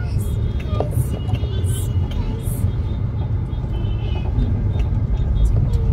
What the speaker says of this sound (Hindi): ज्यादा ट्रैफिक हो करके रखा है।